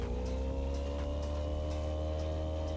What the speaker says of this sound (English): It's our motorboat, bro.